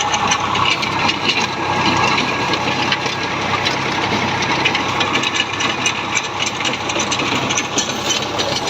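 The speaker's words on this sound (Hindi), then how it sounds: "एक ट्रैक्टर चला रहा है" A tractor engine runs at night during farm water work, a loud, continuous rough chugging rumble with rattling, close by and steady throughout.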